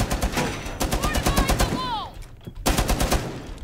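Rapid automatic gunfire in the video game Rainbow Six Siege, fairly distant bursts rattling in quick rhythm, pausing briefly mid-clip before another burst resumes.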